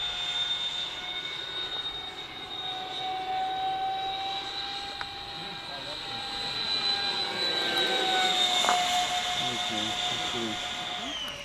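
An electric ducted fan model jet flies overhead, its high whine drifting in pitch and slowly swelling in loudness as it passes. The steady, airy roar continues the whole time, heard from outdoors at a moderate distance.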